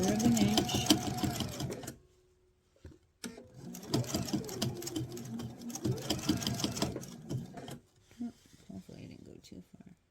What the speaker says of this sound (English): I'll sew until I get to 1/4 of an inch.